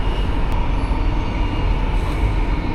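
Inside a moving, nearly empty passenger train on the line from Brisbane, a loud, steady low rumble and rattle of the carriage continues throughout with no voices.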